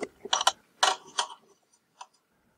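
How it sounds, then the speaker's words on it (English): BNC connector feedthroughs being pressed into place on a breadboard with a flathead screwdriver: a few short metallic clicks and scrapes in quick clusters, close and alone, tapering to a single faint tick. "I'm now pressing home the feedthroughs with a flathead screwdriver."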